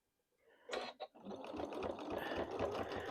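A sewing machine runs steadily as it stitches fleece corner to corner along a marked line for a quilted sheep block, a couple of short bursts at the start giving way to a continuous close whirring drone.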